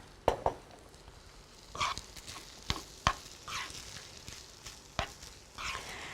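A spoon scrapes and stirs dolma filling in a pan after a little oil goes in, making a series of irregular close clinks and soft scraping sweeps over a faint background sizzle. No talking.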